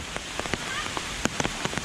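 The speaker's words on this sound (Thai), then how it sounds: "ฝนมันตกตลอด เลยพรำๆเลยนะ" Light rain pattering steadily at Chan Ta Then Waterfall in Chonburi, Thailand, with scattered individual drops tapping nearby surfaces in an irregular rhythm over a soft continuous hiss.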